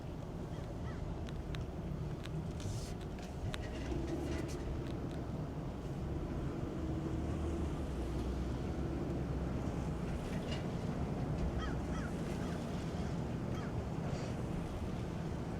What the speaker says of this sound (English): it is always windy